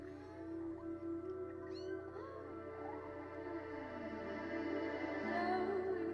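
A cat meows several times, with short rising and falling calls, over a soft steady musical backing in an indie video game trailer.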